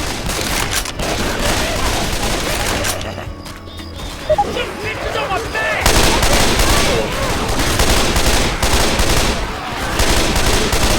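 Rapid automatic gunfire in the zombie shooter Left 4 Dead 2, loud and dense bursts with crashes and mechanical clatter, easing briefly before resuming full force.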